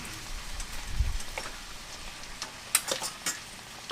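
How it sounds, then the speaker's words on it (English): Ground beef taco filling with onions and a vinegary liquid sizzles steadily in a pan while a utensil stirs it, adding faint scrapes and a few light metallic clinks near the end. "We're just going to stir that up."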